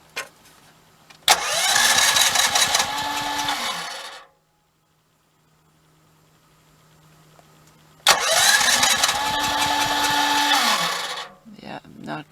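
A generator engine with the choke on is pull-started twice and fails to catch, each pull giving roughly three seconds of loud sputtering engine noise, separated by a long quiet pause.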